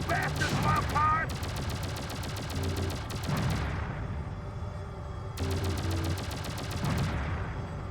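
Rapid bursts of gunfire shooting down aliens in the flight-combat video game Shockwave Assault, fast rhythmic volleys pausing briefly and then resuming, layered over game music with a voice speaking at times.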